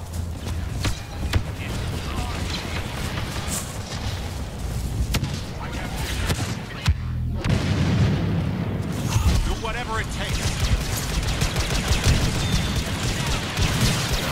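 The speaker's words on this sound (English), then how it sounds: "That was a big explosion" Star Wars Battlefront heroes-versus-villains multiplayer battle with dense booms, blasts and gunfire rumbling continuously at loud level, a brief lull mid-way, and voices talking over the fighting.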